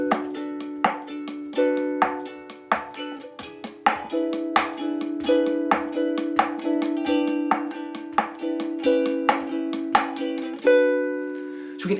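Ukulele bossa nova comping, a steady rhythmic pattern of plucked chords over a sustained low note, clear and close, with no talking.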